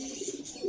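A brief, soft coo from a domestic Ice-breed fancy pigeon, a short warbling murmur heard up close and quietly.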